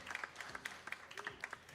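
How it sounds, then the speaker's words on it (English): An audience at a gaming tournament LAN final gives scattered, fairly faint applause, its claps irregular and spread out across the crowd. "Give them a round of applause."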